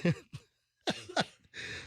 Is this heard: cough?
yes